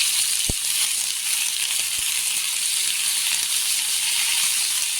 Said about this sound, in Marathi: आणि मग तेलावर परतून घ्यायचं